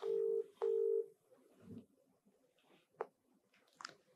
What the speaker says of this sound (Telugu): సరే ఫోన్ చేద్దాం.